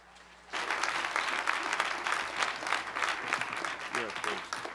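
An audience at a national after-school summit breaks into applause after a brief quiet moment, a dense wash of clapping that carries steadily to the end of the clip.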